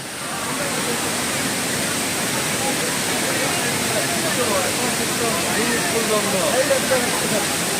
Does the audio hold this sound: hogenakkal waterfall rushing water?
yes